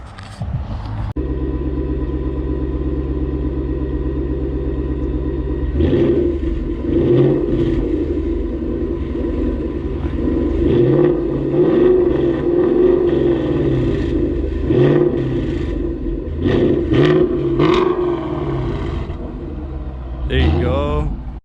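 A 2018 Ford Mustang GT Performance Package, 10-speed, with a Corsa Extreme catback exhaust, idles with a deep steady rumble, then revs repeatedly in loud swelling bursts over about fifteen seconds before settling back to idle.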